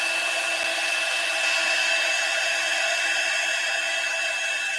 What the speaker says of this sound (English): And then we'll just heat set that.